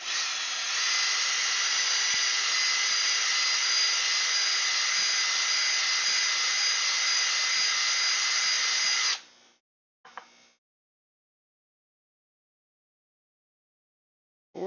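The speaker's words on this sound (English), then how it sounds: "is that a drill I see? It is a drill. Probably hear it too." An electric drill whirs steadily at high pitch for about nine seconds, then cuts off, followed by a brief short burst and silence.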